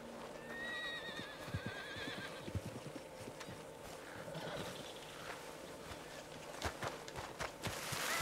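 A horse in the video game Red Dead Redemption 2 gives a couple of high whinnies early on, followed by a steady clip-clop of hooves and scattered thuds over a quiet, faint ambient background.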